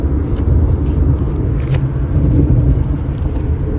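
Steady low road rumble fills a car cabin while it drives along, a continuous engine and tyre drone with no pauses, close and fairly loud.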